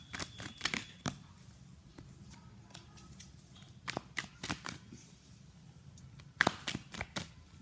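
Tarot cards are shuffled and drawn from a deck, a quiet close-up series of crisp riffling flicks and sharp slaps, some in quick bursts and others spaced apart.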